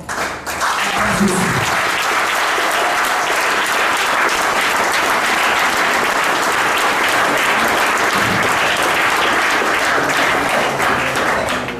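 A church congregation applauds loudly and steadily, a dense sustained wash of clapping that fills the whole stretch with no break.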